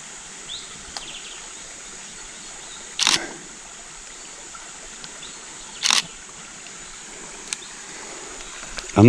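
Two sharp DSLR camera shutter clicks, about three seconds apart, sound close by over a quiet outdoor background near a stream with baboons, with a few fainter ticks after them.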